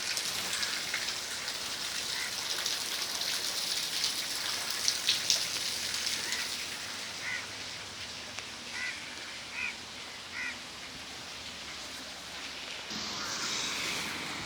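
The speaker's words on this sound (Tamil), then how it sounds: "அந்த அளவுக்கு மழை ரொம்ப பெஞ்சிருக்கு" Heavy rain pours down steadily, a dense wash of falling water close by, with a few distant goose-like honks breaking through midway.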